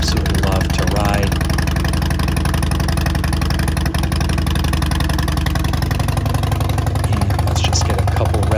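A motorcycle engine idles loudly and steadily up close, a low continuous rumble with slight pulsing and no pauses.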